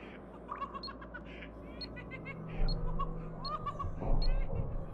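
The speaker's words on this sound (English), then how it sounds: "Watch the bird." Game birds in the survival title Scum give harsh squawks and chirps over a steady ambient bed, several calls spread across the moment at moderate distance, with a heavier low rumble swelling partway through.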